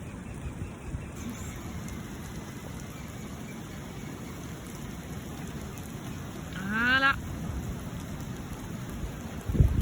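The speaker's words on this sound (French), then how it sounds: "On est à l'abri sous un arbre, sous un pot Tukawa. Parce que il pleut." Steady rain hisses down while people shelter beneath a tree on the Coromandel Peninsula in New Zealand, with a brief rising chirp partway through and a single word spoken near the end.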